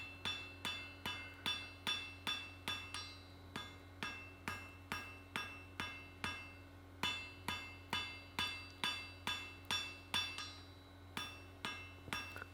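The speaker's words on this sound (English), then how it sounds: "just getting rid of any hammer marks, forging it to section" Hammer forging steel shear blades, worked to section after forge welding: a long run of steady, ringing blows in even rhythm, close and clear, with a brief pause midway before the strikes resume.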